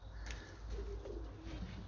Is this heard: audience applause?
no